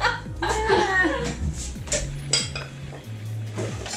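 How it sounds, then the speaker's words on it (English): Dishes and bowls clatter and clink close by while a larger bowl is fetched in a home kitchen during ceviche prep, with a few sharp knocks and soft laughter in the background. "She's going for a bigger bowl"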